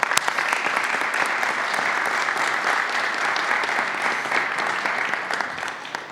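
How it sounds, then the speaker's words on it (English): A crowd at a New York state press event on FEMA vaccination sites gives a round of applause for the National Guard, a dense, even wash of clapping sustained throughout before easing slightly at the end. "Let's give them a round of applause."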